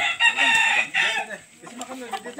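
A fighting rooster crows nearby, with one drawn-out call followed by clucks and fainter calls, and a voice briefly in the background.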